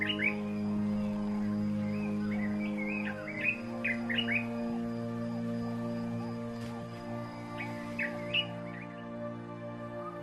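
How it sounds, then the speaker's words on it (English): A dark-capped bulbul sings repeated bright, chirpy phrases in a wild African safari setting, clear and fairly close over a steady low drone of background noise. "This is a dark-capped bulbul."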